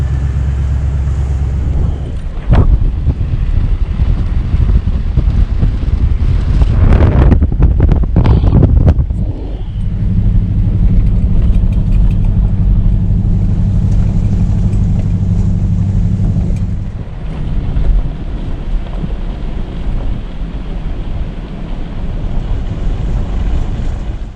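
A Toyota Tundra TRD Pro towing a trailer climbs out of a meadow campsite with a loud, low engine drone and heavy wind buffeting, rising in a strong gust before settling into a steady rumble.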